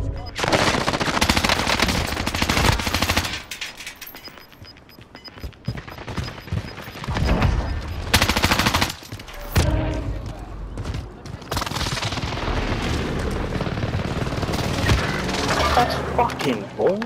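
Rapid automatic gunfire rattles in close bursts inside a building during a battle royale video game match, with long sustained volleys broken by brief lulls, loud and dense, with a voice talking over part of it.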